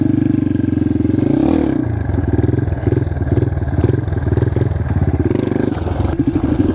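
A dirt bike engine revs hard and close while being ridden, a loud buzzing drone rising and falling through repeated throttle blips with mechanical clatter, no talking.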